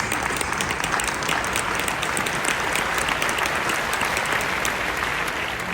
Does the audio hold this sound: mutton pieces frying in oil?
no